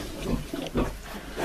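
A domestic sow grunts while farrowing at home, lying down to give birth to a litter of eleven piglets: three or four low, close grunts in a loose rhythm with no speech.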